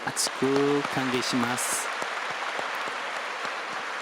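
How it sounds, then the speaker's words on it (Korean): A church congregation claps to welcome new members, a sustained crackling patter of many hands that stays even throughout, while a voice briefly sounds near the start. "우리 박수해 주시고요."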